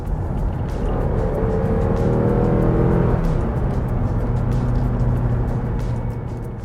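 A loud, close Porsche 944 S2 engine with a 5-speed revving steadily higher toward its 6,400 RPM redline, dropping briefly partway through, then droning on at a strong, sustained roar with no talking.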